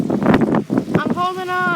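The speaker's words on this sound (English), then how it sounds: "That was just the wind." Wind gusting around a sailboat on open water, a buffeting roar that swells and dips in uneven surges, with a voice crying out over it.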